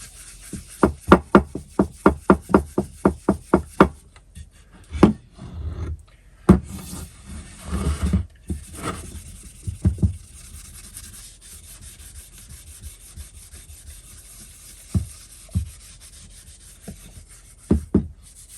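Rag rubbing a wet axe head clean with alcohol: a quick run of about a dozen rhythmic scrubbing strokes, then scattered louder knocks and rubs with quiet gaps between.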